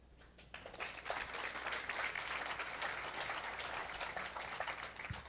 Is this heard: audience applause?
yes